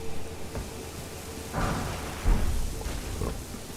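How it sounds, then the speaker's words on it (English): Rainfall with low rolling thunder rumbles in the Elden Ring video game, a steady wet hiss with two or three swelling booms of moderate loudness, no voices. "Time for rain."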